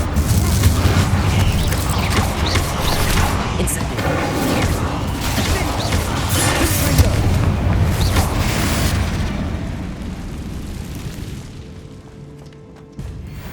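Confringo fire-blast spell exploding in Hogwarts Legacy: a dense, loud, sustained roaring blast with crackling debris that rumbles on for several seconds before fading.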